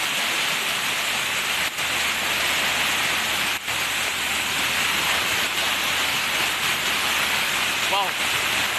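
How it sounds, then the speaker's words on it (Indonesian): Bajuin waterfall in Pelaihari, South Kalimantan, pours in a constant dense rushing roar that stays steady throughout, with a brief voice surfacing near the end. "di air terjun Bajuin yang terletak di daerah Pelehari"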